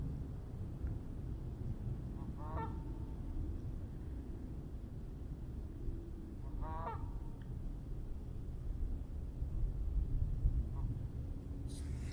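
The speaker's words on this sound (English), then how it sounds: "Can you hear the geese?" Two distant goose honks ring out a few seconds apart over steady outdoor wind noise at Lake Irena in northeast Pennsylvania, with a faint third call later.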